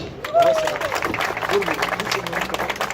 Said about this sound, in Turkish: Hani alkış?